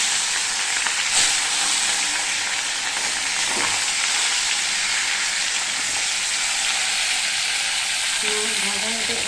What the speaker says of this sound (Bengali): মাছ প্রায় ভাজা হয়ে গেছে।